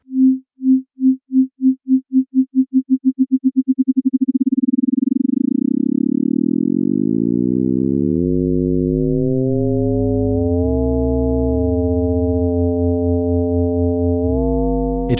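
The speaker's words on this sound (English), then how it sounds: "When the modulator oscillates fast enough, it begins to distort the shape of the waveform itself" A pure steady sine tone pulses slowly, then the modulation speeds up until it blurs into a buzzy, harmonically rich drone with shifting overtones.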